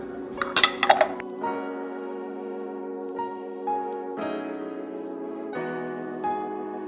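A fork clinks rapidly against a bowl while mixing ingredients for smothered chicken, a quick cluster of bright metallic taps near the start, followed by a steady low tonal hum with faint later knocks.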